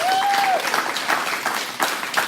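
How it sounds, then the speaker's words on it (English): A crowd claps steadily and fairly loudly throughout, a dense patter of many hands, with a brief whistle near the start. "big round of applause for all the vendors that are involved"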